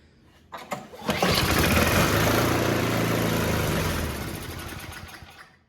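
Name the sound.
Tecumseh engine of MTD snowblower starting up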